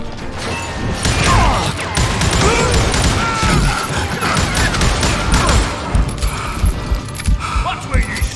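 Rapid video game gunfire with crashing impacts and metallic clatter, dense bursts of shots running continuously and loudly, with scattered sharper cracks near the end.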